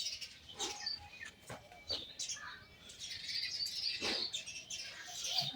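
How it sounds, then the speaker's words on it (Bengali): Common myna birds in a village yard give a series of short, bright chirps and calls close by, scattered across a background of faint outdoor noise. "এই দেখেন কি সুন্দর পাখি এসে উঠানে ঘুরে বেড়াচ্ছে ওই যে শালিক"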